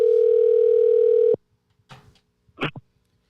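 A steady telephone dial tone sounds loud and alone for just over a second as a caller is called back, then cuts off abruptly and is followed by a few faint rustles.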